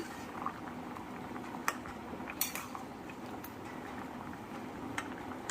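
Pumpkin and potato curry bubbles in a covered pot with a soft continuous simmer. Occasional metallic clinks of the lid and utensils sound up close, quiet overall, with no talking.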